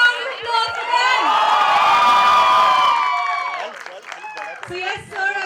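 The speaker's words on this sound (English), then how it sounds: "So can we have a big round of applause for them?" A dense mall crowd at a Bollywood film promotion with Hrithik Roshan and Pooja Hegde cheers and shrieks in a long, loud swell. It thins into scattered claps, whoops and chatter near the end.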